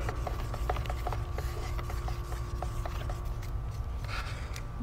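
A paint stick stirring part A of an epoxy in a container: a quiet, continuous rubbing and scraping with soft irregular taps, steady throughout with no talking.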